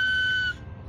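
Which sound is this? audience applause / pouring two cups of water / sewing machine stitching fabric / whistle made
whistle made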